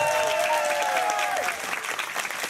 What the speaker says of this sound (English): Give Jonathan a big round of applause, ladies and gentlemen.